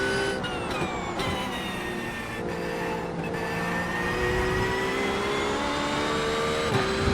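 GT3 race car engines in iRacing at Watkins Glen, with a McLaren among them, droning loudly and steadily as pitch slides slowly upward under acceleration, overlapping engine tones layered without talk.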